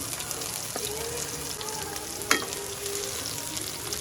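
Garlic frying in a pan, a constant close sizzle with occasional stirring clinks and one sharp knock partway through; no talk.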